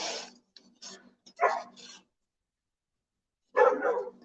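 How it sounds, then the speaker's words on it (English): Two dogs bark in short bursts, a cluster of yips and barks up close followed by a pause, then another loud burst of barking near the end. "Dogs, they're both barking now."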